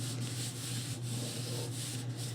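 Hands press and rub paper flat on a paper bag mini album, a close, soft, continuous rubbing sound with a faint steady hum underneath and no talk.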